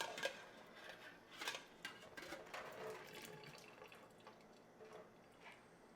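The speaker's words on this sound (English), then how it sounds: "Okay, the water's drained out." Water drains from a pot into a colander in a home kitchen, heard as faint, uneven splashes and trickles with a few soft metallic knocks and no talking.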